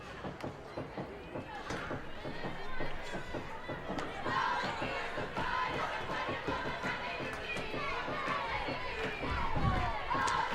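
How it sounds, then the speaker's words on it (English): Softball teammates cheer and shout on their batter during a Montana doubleheader game, a steady crowd of voices with scattered thuds, holding at a moderate level for the whole stretch. "you can hear the team cheering her on right there"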